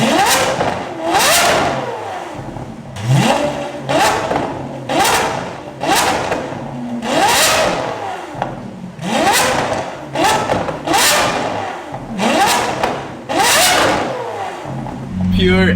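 Lamborghini SVJ with a naturally aspirated 6.5-liter V12 in open exhaust mode, revving hard in a rapid series of loud, shrieking blips that rise and fall about every one to two seconds, close by, with talk mixed in.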